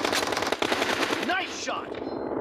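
Rapid automatic gunfire in the BGMI battle royale game, a dense burst of sharp cracking shots followed by a short rising whoosh, with gameplay sounds continuing underneath.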